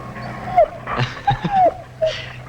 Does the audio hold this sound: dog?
yes